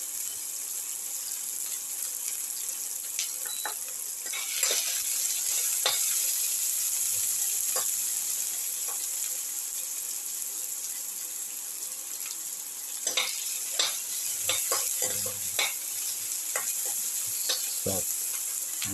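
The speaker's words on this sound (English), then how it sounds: "Saute the ingredients thoroughly." Onion pieces sautéing in a pan for a cumin egg potato roast, a steady high hiss of frying with intermittent scraping and stirring clatters, close and moderately loud, no talk.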